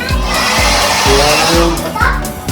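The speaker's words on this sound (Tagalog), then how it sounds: "hair blower." A hair dryer in a small hotel bathroom in El Nido, Palawan, runs with a constant, loud whooshing hum while a person talks over it.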